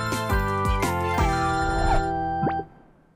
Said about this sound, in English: That's my phone! It's there!